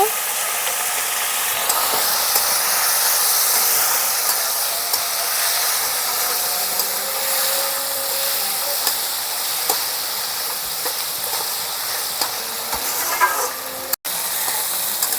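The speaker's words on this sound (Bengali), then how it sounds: "সামান্য একটু জল দিয়ে আবারও কষিয়ে নেব" Potato and cauliflower cook with spices and a little water in a pan, giving a loud, continuous bubbling hiss with scattered faint clicks from stirring throughout.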